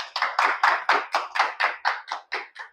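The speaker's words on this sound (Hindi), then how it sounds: "एक बार ताली बजा लो।" Audience clapping in rhythmic unison at a network marketing motivational talk: about a dozen sharp, evenly spaced claps over a few seconds, loud and close, with no voices over them.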